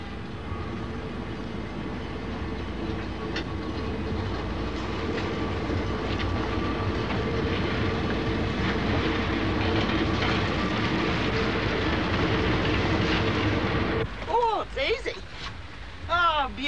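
An Australian train rolls along the rails with a steady rumbling clatter that continues for a long stretch, then fades as voices take over at the end.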